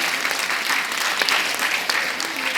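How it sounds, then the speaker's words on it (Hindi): Audience applause at a Hindi comic poetry recital, a kavi sammelan in Chennai, with a crowd clapping steadily and loudly in a short, dense burst. "आप अगर तालियों से नवाजेंगे"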